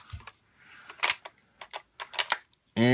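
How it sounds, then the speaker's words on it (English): An Arisaka Type 99 rifle bolt being worked, a series of close metallic clicks and slides in uneven bursts, ending in a louder, sustained mechanical rasp, with no talking. "you take your bolt,"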